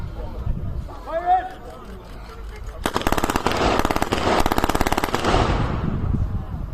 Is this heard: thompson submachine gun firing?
yes